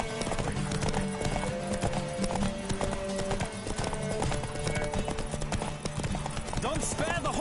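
Horse hooves galloping in The Witcher 3: Wild Hunt, a fast, steady clip-clop rhythm that runs the whole way under music and game ambience, with a whinny near the end and a voice talking over it.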